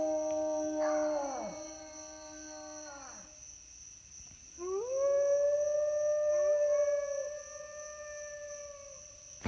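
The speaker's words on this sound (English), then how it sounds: "That was another wolf." Wolves howl in the video game Ultimate Wolf Simulator 2: a long wavering howl fades out, and after a short pause a second, louder howl rises and holds steady, with a faint constant tone humming behind both.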